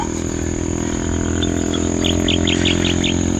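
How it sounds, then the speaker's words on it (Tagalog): Morning outdoors in nature: crickets drone steadily, and a bird calls with a quick series of bright repeated chirps that grows busier toward the end, all fairly close and without talk. "Mga huni ng ibon sa umaga at mga kuliglig"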